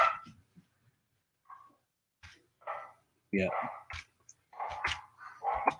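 Dogs barking outdoors at blowing leaves, a few scattered barks and yips at moderate distance between quiet gaps, with someone briefly speaking.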